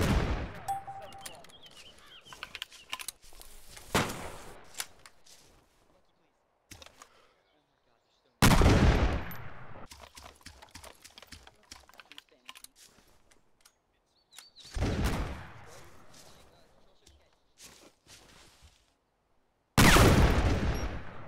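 Bursts of first-person shooter gunfire, loud and sharp, come in several separated volleys with quiet gaps between them, and people talk over the shooting.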